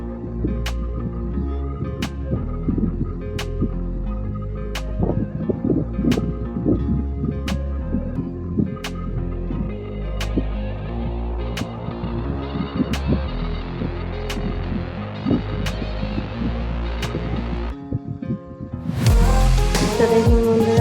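A sewing machine stitches the hems of both legs of a pair of palazzo pants, giving a steady throbbing hum with regular faint ticks and no one speaking, ending in a brief louder rustle.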